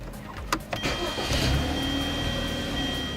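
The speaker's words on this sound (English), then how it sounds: "So once you're in your vehicle, you're going to want to start it." A car engine cranks with a few sharp turnover bursts, then catches and settles into a steady running drone after a jump start, close and fairly loud with no talking.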